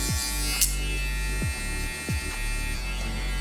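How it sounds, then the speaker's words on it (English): Electric hair clippers buzz steadily while cutting a taper fade in a barbershop, a close, constant drone with brief pitch dips as the blade meets hair. "we're gonna do a bit more clipper over comb, again, to refine the fade"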